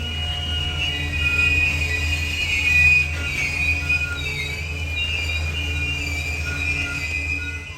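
A Norfolk Southern loaded coal train of hopper cars pulled by leading locomotives rolls steadily on heavy-haul track, a continuous close rumble and drone with a sustained high wheel squeal running throughout.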